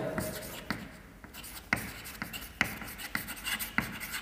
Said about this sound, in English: You can write the cylindrates. Okay, I'll write here